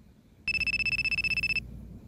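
A phone ringtone chimes as a rapid train of bright electronic pulses, about a second long, loud and close against a quiet room.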